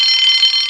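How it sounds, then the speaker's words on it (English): A loud, steady electronic alarm sounds in a children's train story, a continuous high-pitched ringing tone that holds without pause for under a second, with no voices over it. "Soon came the alarm."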